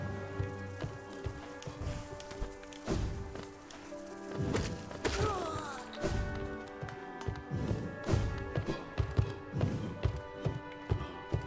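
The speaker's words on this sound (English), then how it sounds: "Ah, that's the thumping I was hearing." Heavy thumping from a big enemy on a lower floor in Hollow Knight thuds irregularly under layered game music, with scattered taps and clanks throughout.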